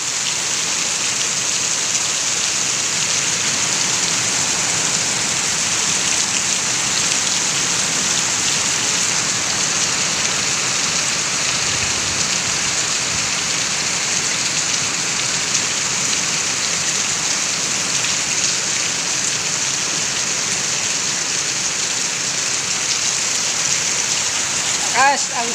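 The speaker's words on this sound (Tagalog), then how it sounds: "Lakas ang tatak ng ulan." Heavy rain pours down in a dense, constant hiss, loud and unbroken for the whole stretch.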